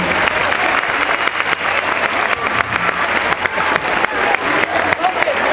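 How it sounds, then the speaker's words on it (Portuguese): A seated audience at a Brazilian quadrilha event gives a loud, dense round of applause, sustained clapping filling the room throughout with voices mixed in. "Uma salva de palmas, pessoal."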